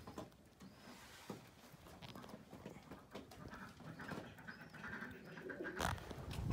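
Pigeons cooing in a pigeon enclosure, low murmuring coos repeating faintly among rustles and scattered clatter, a few brief thumps near the end.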